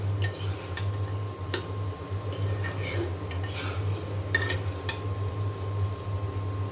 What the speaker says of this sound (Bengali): আমি আর একটু নেড়ে ছেড়ে তারপরে চুলাটা বন্ধ করে দেব